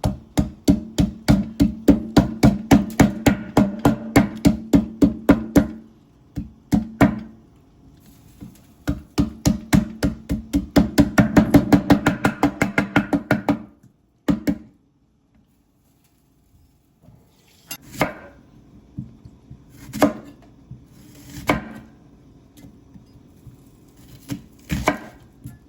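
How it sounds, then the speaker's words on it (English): A scallion is beaten with the handle of a knife for a Jamaican chicken soup, making quick rhythmic wooden knocks in fast bursts, pausing, then resuming, followed by a few slower, separate thumps. "We don't chop this scallion. We beat it."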